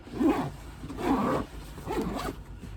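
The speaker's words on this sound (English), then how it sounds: "then you can just zip it up" Zipper on a Bogg Bag tote being pulled closed, three short rasping zips in quick succession, close and clear with no talk.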